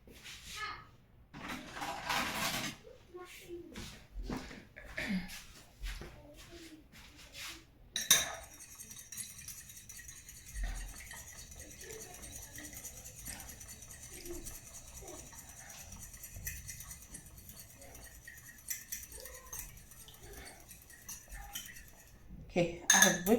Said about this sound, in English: I'm just gonna whip the eggs quickly